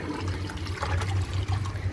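Water pours into the bowl of a 2000 Crane Metro toilet during a test, a steady splashing flow with a low bubbling rumble, close and moderately loud with no talk.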